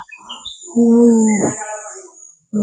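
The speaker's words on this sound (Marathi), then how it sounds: "आवाज किती मस्त येतो बघा पक्ष्यांचा" Birds chirp and call outdoors at a native village place near a temple and beach, with short high tweets early on, a louder warbling call in the middle and another call starting at the end.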